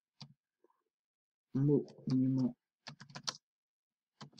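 Typing on a computer keyboard, short bursts of light key clicks, close and quiet, separated by pauses and a brief stretch of someone speaking.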